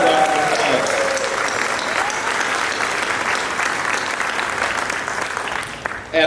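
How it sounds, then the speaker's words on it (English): Audience applause at an award ceremony, a dense, steady wash of many hands clapping close by for about six seconds, with a murmured voice near the start. "Let's give them all a great big round of applause."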